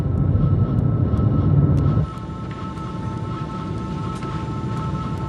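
A Boeing 707 airliner on approach under a fuel emergency gives a loud, steady jet-engine drone with sustained tonal whine, easing to a slightly lower, quieter roar partway through.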